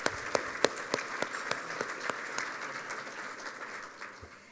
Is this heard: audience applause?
yes